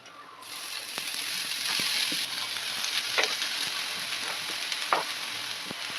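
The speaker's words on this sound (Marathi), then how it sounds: "आता हलकासा कांदा लाल झाला आहे जी भाजी जिरून घेतलेली ना ती आपल्याला भाजी घालून घ्यायची आहे" Onion and takla wild greens sizzle and fry in a pan, a soft continuous hiss broken by a few light stirring scrapes and clicks, with no voices.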